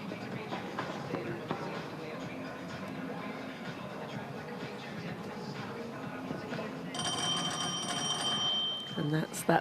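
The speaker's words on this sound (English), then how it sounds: "that's that bell ringing to say thanks, Maddie, but not today." A bell rings out across a show jumping arena at the Liverpool International Horse Show, a bright sustained ringing near the end heard over continuous commentary and crowd ambience.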